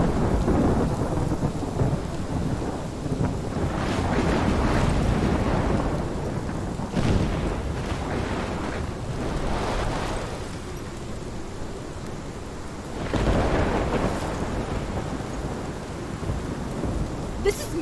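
A thunderstorm in the video game Life Is Strange, with steady heavy rain and rolling thunder swelling and fading in long waves, loud and continuous with no talk.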